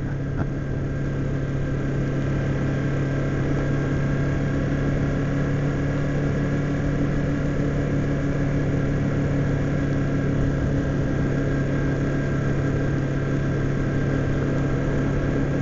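A 2007 Kawasaki Ninja 250 motorcycle is ridden in third gear at around 4,500 RPM, its engine giving a steady, unbroken drone, loud and close for the whole stretch.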